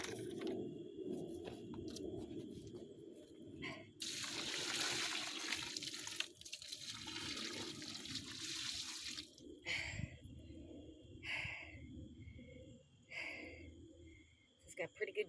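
Water pours from a container onto freshly transplanted coneflowers in garden soil, a gushing, splashing flow that starts and stops in bursts, with some faint sounds in between.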